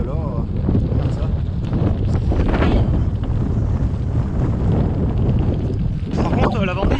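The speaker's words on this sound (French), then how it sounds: "Par contre, la Vendée, il y a du vent" Strong coastal wind on the Vendée shore near Saint-Gilles-Croix-de-Vie buffets the microphone in a steady, loud roar throughout, with brief voice-like sounds mixed in near the start and end.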